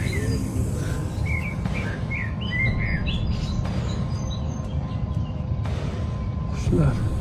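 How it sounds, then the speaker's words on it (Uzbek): Birds chirp in short, bright tweets scattered through a steady outdoor rumble near a palace ruin, the calls fairly faint and intermittent over the noise. "Qushlar."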